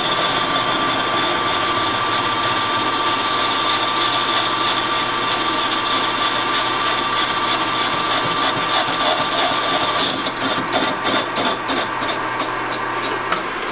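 A boring bar cuts down an engine cylinder with a steady, loud machine drone and a bright whine running throughout. Near the end a rapid rhythmic pulsing joins the hum.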